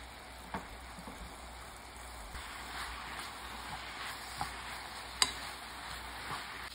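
Fish cakes being stir-fried in a seasoned pan with garlic and pepper, a soft steady sizzle with faint stirring scrapes and a few small clicks of a utensil against the pan, heard alone at low volume.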